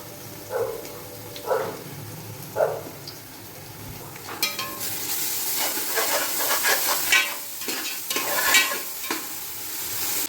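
Sliced onion and ginger garlic paste sauté in a pan for chicken biryani. After a few quiet scrapes, a loud, bubbling sizzle rises with busy stirring strokes of a spoon against the metal.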